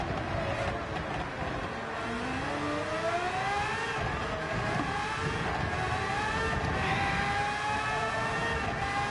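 Race cars in the Gran Turismo 7 video game, led by the player's number 84 car, whining steadily throughout with rising engine pitches as gears climb and other cars pass nearby.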